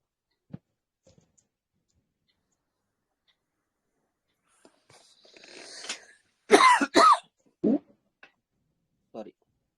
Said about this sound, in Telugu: కొంచెం దగ్గుంది.